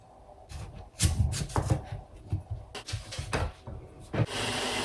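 A knife chopping sweet potato into small pieces on a cutting board in quick, uneven knocks, close by, with no talking.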